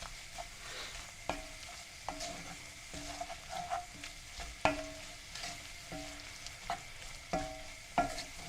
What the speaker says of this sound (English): Boona just means heats up with the oil.